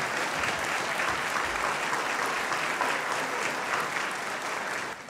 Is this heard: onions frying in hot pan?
no